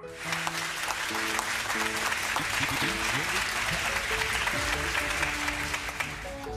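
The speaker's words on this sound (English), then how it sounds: "let's give our brother, Brian Anderson, another big round of applause" Church congregation applauding steadily and loudly throughout, a dense wash of clapping with voices and musical tones mixed underneath.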